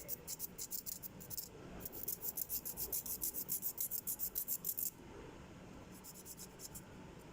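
A nail file rubs across fingernails in quick, rhythmic back-and-forth strokes, a close, faint scratchy rasp in bursts with a short pause between them.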